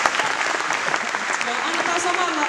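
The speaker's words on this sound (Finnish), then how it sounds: "Annettakaa aplodit itselleni." Steady applause from the audience at a tribute concert in Forssa, with dense clapping throughout and a few faint voices under it.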